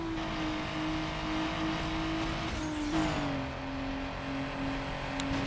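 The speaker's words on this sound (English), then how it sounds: "me just literally revving the shit out of this car" A car engine in the Need for Speed: Underground racing game on PS2 drones and revs steadily, its pitch dipping and rising with gear changes, loud and continuous with no talk over it.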